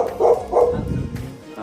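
A black chow chow puppy, about a month old and one of a big-boned litter, gives two quick, close yapping barks followed by softer whimpering sounds.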